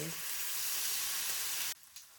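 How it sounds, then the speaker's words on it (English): Loud, steady sizzling of bacon frying on a hot Presto electric griddle, a bright crackling hiss that drops off abruptly near the end. "the bacon is just laying on the griddle. As you can see, sizzling up like it's just in a pan."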